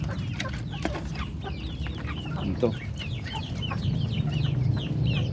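Native chickens clucking continuously while being moved between coops, several birds close by with overlapping clucks and calls over a steady background of rustling.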